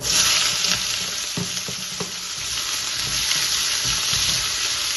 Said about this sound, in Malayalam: നമ്മൾ ആ വലിയ ഉള്ളി കട്ട് ചെയ്തത് എണ്ണയിലിടാം